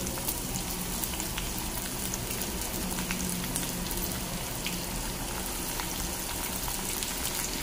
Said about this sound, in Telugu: ఇక్కడ ఉల్లిపాయ మాత్రం చక్కగా ఎర్రగా వేగిపోతే బాగుంటుంది